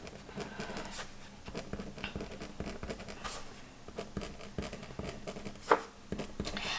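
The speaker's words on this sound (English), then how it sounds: "I'm just going to go ahead and write lunch for each of these days." Handwriting in a paper planner, a soft continuous scratch of pen on paper close by, with small louder strokes and a faint background hum, no talking.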